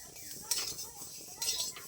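Spices lightly frying in a pan for green chilli pickle, a faint hiss with two scraping, clinking strokes of a spoon stirring against the metal.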